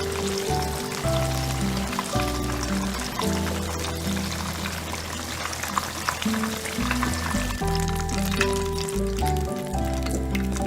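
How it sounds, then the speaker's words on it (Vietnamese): Cooking oil pours into a pan with a faint sizzle, over a steady backdrop of background music. "Cho dầu vào chảo, cho nhiều một chút để chiên cho nhanh ha các bạn."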